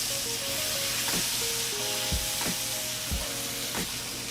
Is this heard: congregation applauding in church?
no